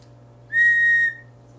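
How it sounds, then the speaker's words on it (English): A toy chicken whistle gives one clear, steady shrill tone lasting about half a second, close and fairly loud, with quiet room hum before and after. "it's a whistle?"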